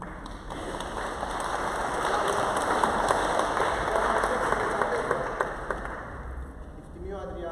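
A crowd at a summer festival ceremony applauds in a dense, rain-like wash of clapping that swells and holds for several seconds before thinning out near the end.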